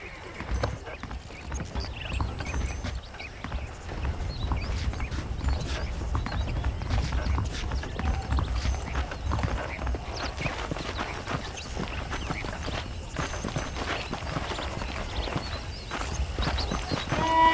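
Horse hooves clip-clop steadily in Red Dead Redemption, a continuous rhythmic walking gait heard up close over a constant ambient bed of game sound.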